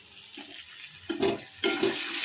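Egg curry ingredients dropped one by one into a hot frying pan with fried eggs, giving a soft sizzle that swells into a louder, steady frying hiss after each addition.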